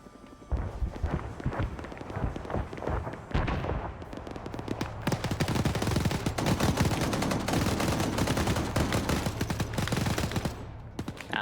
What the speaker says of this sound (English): Now they're shooting down the street here